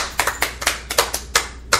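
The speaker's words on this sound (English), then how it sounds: "And some applause." A small group clapping for just under two seconds, sharp hand claps landing in a quick, slightly uneven rhythm, close and fairly quiet with no talk.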